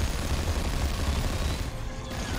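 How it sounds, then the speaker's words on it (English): Plasma cannon fire from a Space Marine squad in the strategy game Warhammer 40,000: Dawn of War 2, a dense, continuous barrage of heavy blasts and crashes with a low rumbling boom, loud and sustained with no voices. "And that, my friends, is Avitus's plasma cannon."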